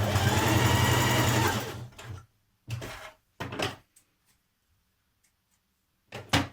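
A sewing machine runs in a steady close burst while stitching sweatshirt seams, then stops; a few shorter bursts and small handling clicks follow in an otherwise quiet room.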